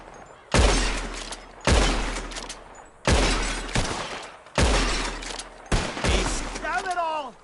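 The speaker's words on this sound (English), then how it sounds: "Whoever shoots more of these bottles wins" Five loud gunshots ring out in Red Dead Redemption 2 during a bottle-shooting contest, spaced roughly a second apart, each followed by a decaying echo and shattering glass.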